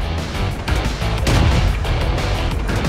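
A small tank in World of Tanks lays down a dense, rapid stream of gunfire, shots crowding together loudly and almost without pause for a few seconds.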